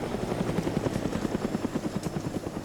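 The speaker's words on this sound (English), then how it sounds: "Ooh, a helicopter. I'll shoot that." A helicopter in a military shooter game flies nearby with a loud, steady rhythmic rotor thump chopping several times a second over a dense roaring engine wash, with no talking.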